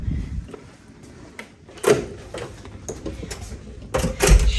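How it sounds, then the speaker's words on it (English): A hotel room door on the 18th floor of the Park Front Hotel at Universal Studios Japan swinging shut, with a latch clack, a second knock and light handling noises nearby in a quiet room. "shut the door"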